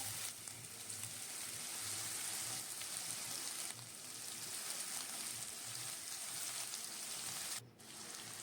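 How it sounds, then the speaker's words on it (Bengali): Two medium potatoes cut into long slices frying in oil in a pan give a steady, dense sizzle throughout, close and even with a brief dip near the end. "আলুগুলো সামান্য ভেজে নেব"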